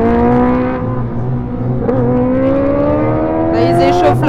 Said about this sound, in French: ils échauffent leur moto en fait, ils s'amusent clairement